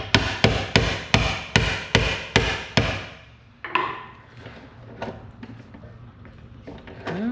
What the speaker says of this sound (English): try this impact screwdriver